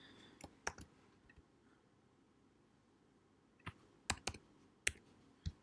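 Sparse computer keyboard key presses during Ctrl+C and Ctrl+V copy-paste shortcuts in laser cutter drawing software: a few quick clicks early, a long quiet gap, then a short cluster of sharp close taps.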